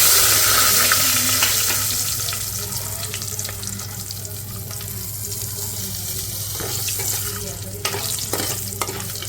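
Mustard seeds, cumin and asafoetida tempering in hot oil, giving a loud, bright crackling sizzle that slowly eases while scattered pops and stirring scrapes continue, close up and with no voices.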